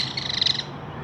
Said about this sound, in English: I like these bird calls.